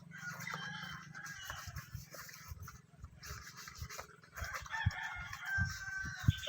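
Chickens cluck and a rooster crows on a riverside farm with a large flock, the calls coming in repeated bursts at close to mid range, with sharper, louder cries toward the end.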